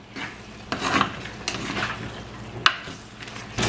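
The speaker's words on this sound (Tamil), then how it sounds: "இடக்கிட மிக்ஸ் பண்ணி விடுங்க." Spoon scraping and rubbing through country chicken curry with pepper and cumin in a pot, a steady soft stirring with a few sharper clinks against the metal, close and fairly quiet, no talking.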